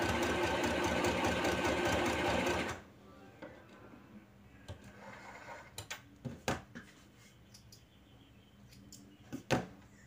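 A YOKO YK1803 portable mini sewing machine runs steadily through a large straight stitch, a dense continuous whir for the first few seconds, then stops, leaving quiet room noise with scattered clicks and knocks.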